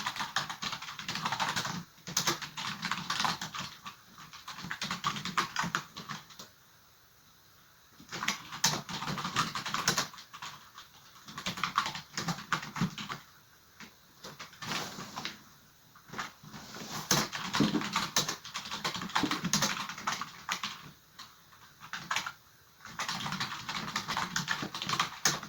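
Quick, uneven bursts of typing on a computer keyboard, close and clear, separated by short pauses, with no talking over the keystrokes.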